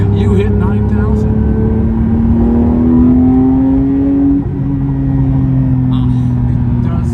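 Porsche 911 GT3 engine pulling hard through the gears from inside the car, with a steady climbing drone, a brief dip at a shift, then rising again, while people talk over it.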